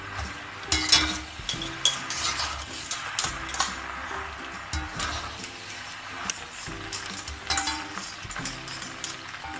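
Veggie macaroni pasta being stirred in a pan, with steady scraping and clinking of a spoon against metal over a soft sizzle, close and continuous with irregular louder strokes.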